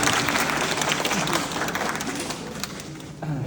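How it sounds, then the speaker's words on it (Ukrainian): Audience applause after three world tenors are introduced at a children's Sunday school performance in a church, steady dense clapping filling the whole stretch at moderate level, with no voices over it. "Аплодисменты."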